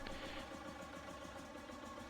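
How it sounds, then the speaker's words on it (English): Idling engine of a John Deere 730 diesel tractor, a custom engine sound with a steady low chugging pulse that holds at moderate level for a couple of seconds, alone. "Now this one has more of a diesel sound to it."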